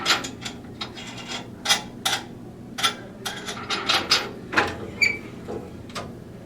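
Drill press boring into a bowling ball, loud and close, with repeated harsh grinding bursts and scraping rasps over a steady mechanical drone, no talking.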